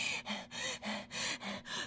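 A performer acting out constant breathlessness with quick gasping breaths, about six rhythmic inhalation bursts in under two seconds, close and fairly loud with short pauses between them, and no talking.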